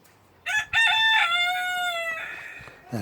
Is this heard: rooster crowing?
yes